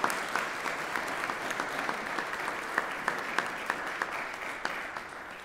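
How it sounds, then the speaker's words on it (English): A church congregation claps for a newly born-again member during a worship service, steady dense applause from a mid-sized crowd with a few sharper claps standing out, lasting throughout at moderate distance. "Let's just give the Lord a clap offering."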